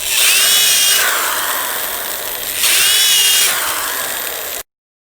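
A power drill drives screws into wooden boards for a DIY fish tank stand, two loud sustained whirring bursts with rising pitch, each winding down before the motor cuts off into silence.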